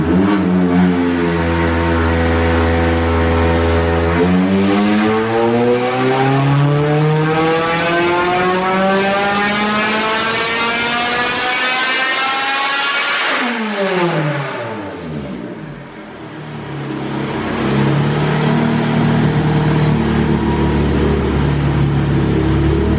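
A Bisimoto K24-powered wagon screams on dyno rollers, running all motor with nitrous, its engine note climbing steadily through the gears in long loud pulls, dipping briefly before winding up again, with no talking.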